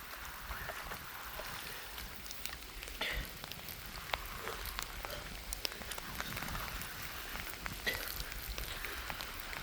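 Water from a DIY camp shower hisses and patters steadily at a campsite, with a soft continuous spray and scattered drip-like ticks, fairly quiet and without talk.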